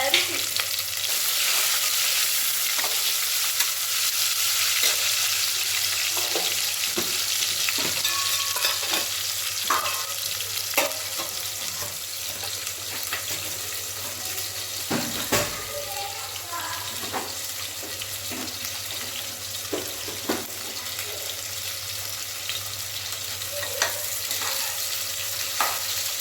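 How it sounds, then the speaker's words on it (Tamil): Onions fry in a pan for a goat-meat (kaalan) biryani, a steady broad sizzle with repeated scraping stirs and clinks of the spoon throughout, close and continuous, with a low hum underneath. "நல்லா வெங்காயம் வதங்கட்டும்."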